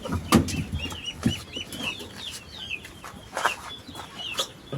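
Chickens cluck on a small farm, a few throaty calls rising over a steady outdoor background of chirping birds, moderately close and without talking.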